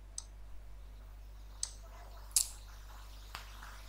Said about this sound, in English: what I need to do is to click on send email